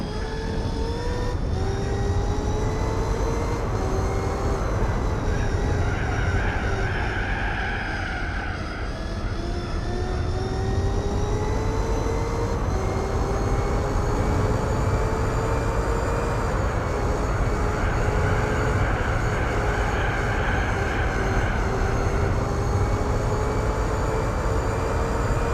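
A car in Gran Turismo 4 revs against its rev limiter, a loud continuous engine drone whose pitch climbs in long sweeps, tops out and restarts, repeating across the run with no talking.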